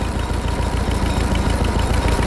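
A homemade garden tractor pieced together from Zaporozhets, GAZ, Moskvich and UAZ parts idles loudly and close by, its engine chugging in a steady, fast, even rhythm with no voices over it.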